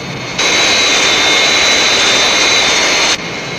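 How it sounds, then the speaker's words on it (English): A jet aircraft takes off with a loud, steady roaring rush that kicks in abruptly and holds at full power, then cuts back near the end. "I just couldn't fault that takeoff"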